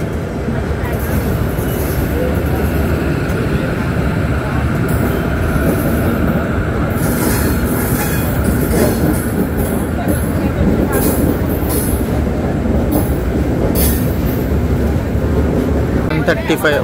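A train pulls into Renigunta Junction station with a loud, steady rumble of wheels and carriages, high squealing and clanks flickering over it throughout, and a voice talking over the noise.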